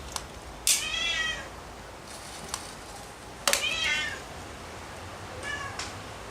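A cat meows three times outdoors near the camera, each call a drawn-out cry with a rising and falling tone, spaced apart over a steady background hiss of wind.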